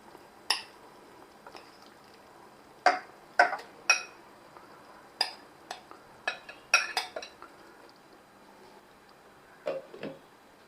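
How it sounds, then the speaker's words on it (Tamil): Intermittent clinks and scrapes of a spoon against a pot as marinated chicken is stirred into oily masala for a Madurai Gundu Bhai style Hyderabadi chicken dum biryani, a dozen or so sharp, close knocks with quiet gaps between them. "இப்போ இந்த சிக்கனை வந்து நம்ம நல்லா கலந்து விட்டுருவோம்"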